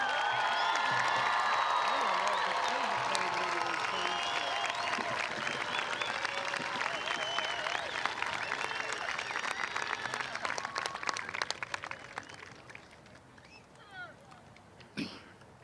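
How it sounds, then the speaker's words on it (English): Graduation crowd for the Class of 2025 at Beechwood High School breaking into applause and cheers, loud at first, then thinning into scattered claps and fading out, with a few voices underneath. "Big round of applause for the class of"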